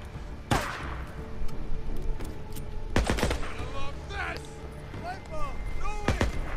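Gunfire in the video game Days Gone, repeated sharp shots in bursts over a busy game soundscape with ricochet-like whines, loud and close, while someone talks at times.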